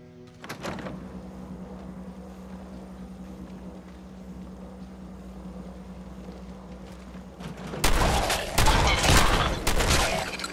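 Gunfire from the video game Fallout 4 starts as a sharp early shot over a low, steady drone, followed by a dense burst of loud, rapid shots toward the end.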